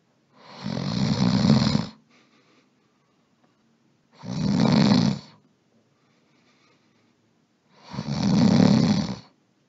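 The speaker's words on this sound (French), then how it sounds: "Écoute-le ronfler." Three long, loud, rasping snores from a giant in a Halloween story reading, each lasting about two seconds, evenly spaced with near-silent pauses between them.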